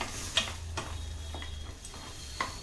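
Makhana (fox nuts) being sautéed in a pan for a makhana and sago porridge, heard as a soft, faint sizzle with a few light clicks and scrapes from stirring, scattered unevenly.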